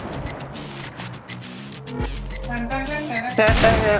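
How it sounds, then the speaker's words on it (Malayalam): Bursts of Roblox gunfire crack and boom among synthetic effects and music, with some louder shots near the end. "കിങ്സോനെ ഇപ്പൊ നമ്മൾ വെടിക്കും."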